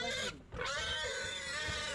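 A pig at a farm sale in the Philippines, with a grunting, squealing voice in a quiet recording that has a short dip near the start.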